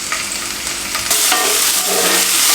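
Bread upma fries and is stirred in a pan as chopped tomato goes in, with a loud sizzle and scraping stir strokes that swell as the tomato lands.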